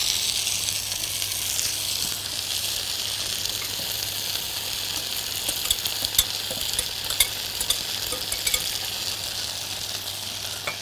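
Steady sizzling of zucchini frying in a pan, with occasional scraping stirs and light clinks, constant and close.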